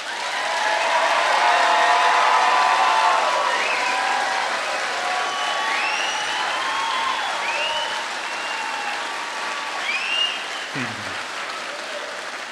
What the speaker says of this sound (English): give this class another round of applause